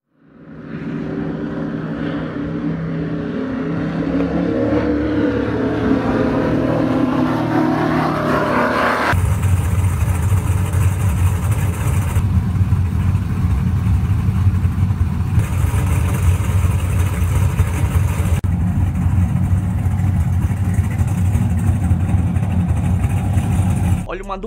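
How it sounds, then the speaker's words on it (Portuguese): A quad-turbo V16 engine built by Sixteen Power revs loudly and steadily, its deep roar climbing early and then holding at a high, sustained pitch through to the end. "O V16 dela é alimentado por 4 turbos compressores e se liga só no ronco desse negócio."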